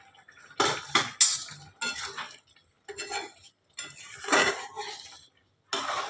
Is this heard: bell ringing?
no